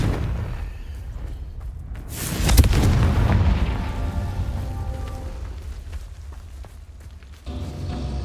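Confringo spell explosion in the video game Hogwarts Legacy, one loud booming blast that bursts out and then rumbles and crackles away over several seconds.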